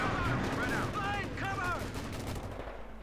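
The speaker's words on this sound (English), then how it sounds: "Another artillery strike here going in on the battle group headquarters." Artillery and gunfire crackle in a World War II strategy game, a few sharp bursts and rumbling impacts layered with whistling shell sounds, all under a commentator's voice.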